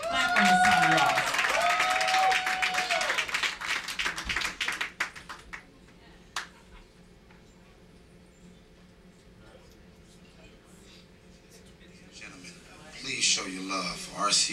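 An audience claps and cheers loudly for a singer at a live show. The applause fades away after about five seconds into a quiet room, then a short burst of clapping returns near the end.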